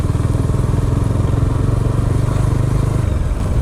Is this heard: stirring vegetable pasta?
no